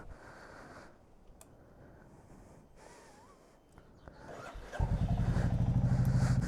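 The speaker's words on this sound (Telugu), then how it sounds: "ఫస్ట్ కోల్డ్ స్టార్ట్ చేద్దాం." Royal Enfield Classic 350 motorcycle cold start: faint handling noises and a brief crank give way to the engine catching and settling into a loud, close, steady thumping idle.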